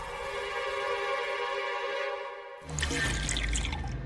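Drinking water is poured into a glass. A steady tonal trickle runs for over two seconds, then a brief gurgling splash closes the pour, close and loud, with no talking.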